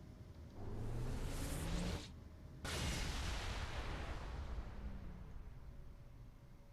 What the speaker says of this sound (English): Time for a weapons test.